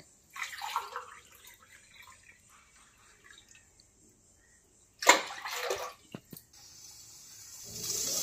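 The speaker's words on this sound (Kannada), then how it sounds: "ಅಕ್ಕಿ ವಾಶ್ ಆದ ನಂತರ ಅಮ್ಮ ನೀರು ಹಾಕ್ತಾ ಇದ್ದಾರೆ, 3 ಲೋಟ ನೀರು ಹಾಕ್ತಿದ್ದೀನಿ" Water is poured from a tumbler onto washed rice in a pot while making rice kesaribath, two short splashy pours a few seconds apart with faint drips and quiet stretches between, close and without talk.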